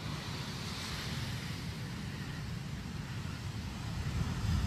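Large ocean waves crash ashore in Hawaii during Hurricane Lane, a continuous broad roar of surf mixed with wind buffeting the microphone, swelling louder toward the end.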